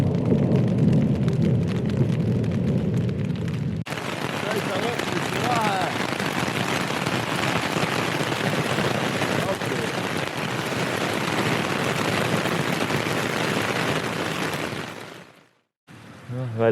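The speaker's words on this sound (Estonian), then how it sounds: "Väljas on ilusad rahetükid." Heavy hail and rain drum on a tent during a thunderstorm in the Pyrenees, a dense, loud and continuous patter close overhead that cuts off abruptly near the end.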